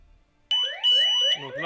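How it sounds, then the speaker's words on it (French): An X-Sense FS61 smoke detector set off by smoke, sounding a loud, piercing electronic alarm that starts abruptly after a moment of near silence and pulses on close by. "Donc là, on a bien l'alarme qui se met en route."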